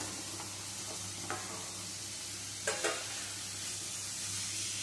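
Fried potatoes and a splash of water cooking down with spice paste for a vegetarian dish, sizzling steadily in the pan with a few short scrapes and clanks of stirring.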